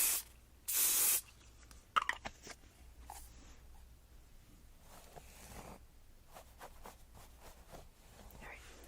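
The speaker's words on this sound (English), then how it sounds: "I'm going to spray with a little bit of hairspray." Hairspray hisses onto hair in close, loud bursts, one short and one longer, followed by soft rustling and handling sounds.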